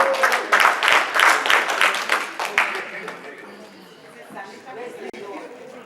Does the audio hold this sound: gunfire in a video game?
no